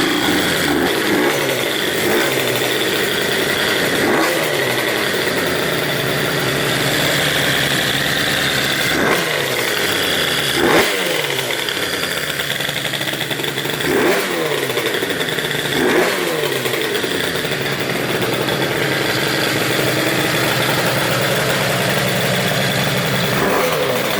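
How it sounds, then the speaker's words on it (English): A Zuma twin-engine scooter, just rebuilt, running steadily close by after starting, with a continuous buzzing idle and several brief revs standing out at intervals over about 24 seconds. "I'll go ahead and fire it up so you guys can hear it run"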